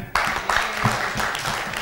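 Audience applause at a leaders' panel discussion on poverty reduction in Tasikmalaya, a brief burst of many hands clapping that starts suddenly and continues steadily, with some murmuring voices underneath.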